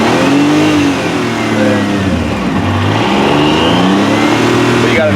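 A car's engine revs hard under launch control with the brake held, a loud, steady mid-pitched roar that rises and dips in pitch, close by and continuous throughout.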